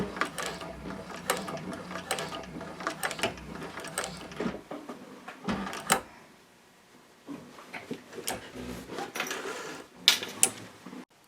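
Techsew 4800 Pro sewing machine backstitching, bursts of rapid mechanical clatter and ratcheting stops, with short pauses between runs, close and moderately quiet.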